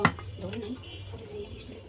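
A utensil scrapes and clinks against a pot of boiled rice as it is stirred, with a sharp metallic clink at the start, then soft scraping and pot sounds under quiet background speech.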